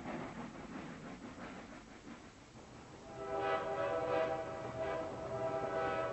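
Train noise tied to Boer War armoured trains ambushed in South Africa: a steady rumble that swells after a few seconds into a loud, sustained horn or whistle tone over the running train.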